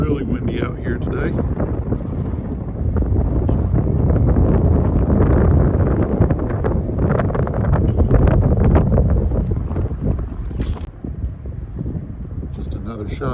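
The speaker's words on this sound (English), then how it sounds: "Really windy out here today." Strong wind buffets an outdoor resort pool area beside a wide lazy river, a steady loud rushing roar with microphone gusts that swell and ease throughout, with faint voices now and then.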